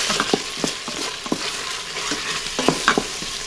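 Coconut milk sizzling in an Instant Pot for Thai yellow chicken curry, a bright continuous hiss with frequent quick spoon scrapes and taps, close and clear, no one speaking.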